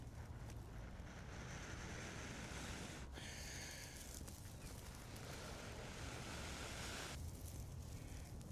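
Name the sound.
wind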